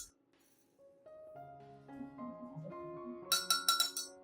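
Light glassy clinks and taps build up as about three tablespoons of oats drop into a glass, ending in a quick run of brighter rattling chinks.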